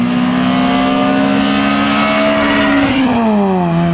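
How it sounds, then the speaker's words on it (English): A Rocket League car engine fitted with an exhaust mod drones loud and close at a steady high pitch, then dips in pitch near the end as the revs fall. No talk is heard. "it low-key sounds really nice with an exhaust mod for some reason"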